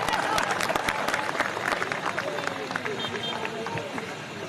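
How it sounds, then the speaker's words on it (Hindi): An audience in Mungeli, Chhattisgarh breaks into loud applause, a burst of many clapping hands with crowd murmur that is strongest at the start, then gradually thins and fades. "जोरदार तालियां।"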